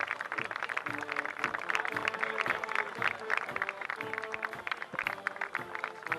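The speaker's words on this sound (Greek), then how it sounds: "Φυσικά κερδίζουν το χειροκρότημα του κόσμου" A crowd claps steadily at a Greek national parade for 25 March, sustained applause with rhythmic brass-like tones and drumming audible beneath, fairly distant and continuous throughout.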